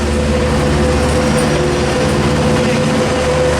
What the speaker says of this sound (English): This Metrolink that pulled in has 912 shoving in.